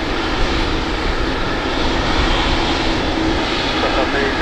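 The jet engines of a Silk Way West Boeing 777F freighter roar steadily and loudly during takeoff at Paine Field, a dense, continuous rumble and hiss that fills the whole stretch, with radio talk faintly under it.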